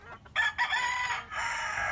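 Roosters crow loudly in a couple of overlapping calls, with hens clucking close by in a busy poultry yard.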